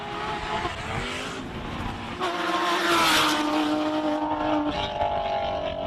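An all-wheel-drive Audi race car pulls away at a Cape Town hill climb, its engine note climbing loudly through rising gears with a brief tire squeal, steady and close before easing off as it departs.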